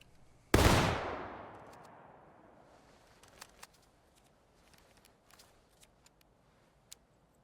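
One sharp, loud volley of musket fire from an infantry rank in the War of Rights game, a booming crack that decays slowly into echo, followed by scattered faint distant pops and clicks.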